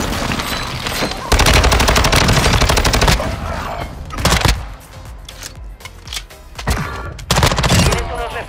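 Rapid automatic gunfire in Call of Duty Warzone, loud and close, in long bursts with short pauses between, under brief voiced game callouts.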